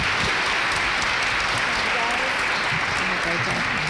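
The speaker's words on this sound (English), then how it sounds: "let's go ahead and give our panel a round of applause" An audience at a forum on early childhood impact of the Flint water crisis gives the panel a loud, sustained round of applause, thick continuous clapping close and full throughout, with faint voices mixed in.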